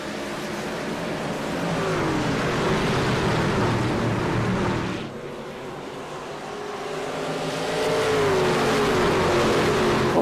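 Race cars in a racing video game surging away at a green flag restart at Indianapolis Raceway Park, a loud sustained engine roar with rising revs, dipping briefly midway before swelling again.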